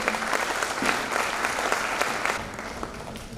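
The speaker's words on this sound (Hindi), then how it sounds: "तालियां बजती रहनी चाहिए" Sustained audience applause at a women achievers' panel event in Vadodara, dense and steady clapping filling the whole stretch, loud and close, with no talk over it.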